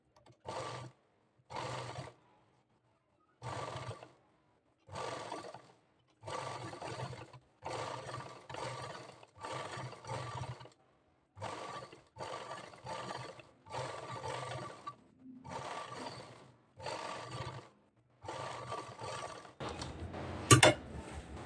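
Sewing machine stitching a blouse, running in about a dozen short bursts of a second or so separated by silences, with a sharp click near the end.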